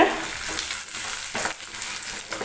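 Dried red chillies frying with urad dal in a pan, a loud, close, continuous sizzle with a few stirring swells.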